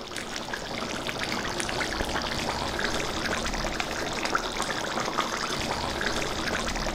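Bottle gourd stew simmering in a pot as jaggery pieces go in, Andhra home cooking; a steady, close bubbling and pouring-like liquid texture runs continuously without speech.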